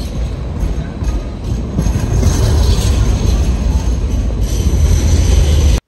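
A train or metro runs close by in Sydney, a steady loud rumble of wheels on track building slightly and ending abruptly, with no talk over it.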